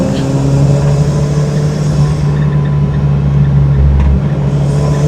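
A Mazda RX-7 FD3S cruises the Tsubaki Line mountain road near Hakone, its engine a steady, loud, close drone with road rumble throughout and a brief low surge near the end.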